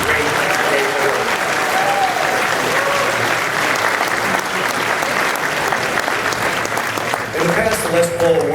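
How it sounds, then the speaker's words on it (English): Dense, sustained applause from a large audience at a music awards ceremony, loud and continuous throughout, with a brief dip near the end before swelling again. "Please give them a round of applause."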